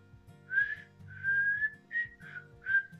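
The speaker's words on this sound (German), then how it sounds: "Es gibt auch Tage, da kann ich pfeifen" A person whistles a short, wavering tune in four separate phrases, each a clear pitched note line that rises and dips, heard alone against a low steady background hum with brief gaps between phrases.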